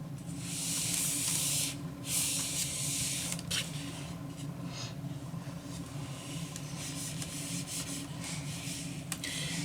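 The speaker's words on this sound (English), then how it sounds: "All right, now that I have this all sewn together, I am going to just start pressing it." A steam iron pressing a sewn improv quilt block, with loud bursts of hissing steam followed by softer rubbing and gliding of the iron over fabric, close and without talk.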